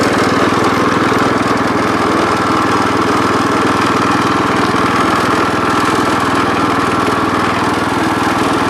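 A 1973 John Deere 110 lawn tractor engine runs steadily and loudly throughout, a constant close mechanical drone with no pauses or voices.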